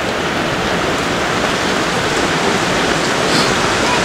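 Heavy rain pours down steadily and loudly on an outdoor path while people eat, a dense, unbroken roar with water running over the ground.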